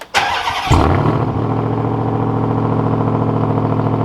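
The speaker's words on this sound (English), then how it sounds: "But here's a cold start." A 2021 Ford Raptor pickup's large engine cold-starts with a sharp burst, then settles into a loud, steady rumbling idle close by.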